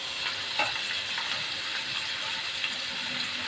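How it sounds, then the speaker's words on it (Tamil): Potato pieces sauté in oil in a pan for a ladyfinger and potato poriyal, giving a steady, close sizzling hiss with faint stirring scrapes. "உருளைக்கிழங்கு போட்டு நல்லா எண்ணெயில் நல்லா கொஞ்சம் வதக்கி விட்டுடலாம்."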